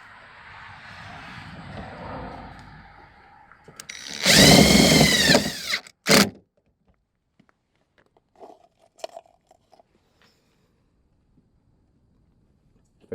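A power drill whines loudly for about two seconds, then gives a brief second burst, as it drives self-drilling tapping screws into the door of a 2009 Toyota Highlander while mounting a replacement speaker. Faint handling sounds come before and after.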